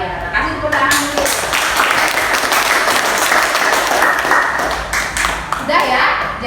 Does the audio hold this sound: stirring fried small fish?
no